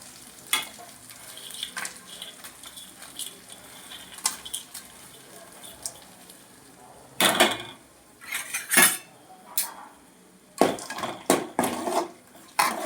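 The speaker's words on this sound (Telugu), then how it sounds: "ఇలా మనం అంతా కలుపుకొని బాగా దగ్గర పడే వరకు ఇలా కలుపుకోవాలి" Paneer curry being stirred in a pan, with quiet sizzling under scattered spoon scrapes and clinks against the metal, growing into louder, quicker stirring strokes toward the end.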